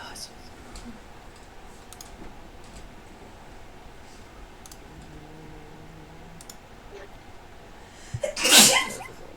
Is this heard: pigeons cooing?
no